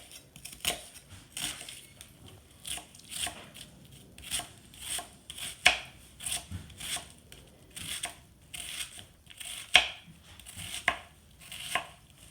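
A knife slicing through an onion left on its root, a series of crisp cutting taps at an irregular, unhurried rhythm, close and fairly quiet, with no voices.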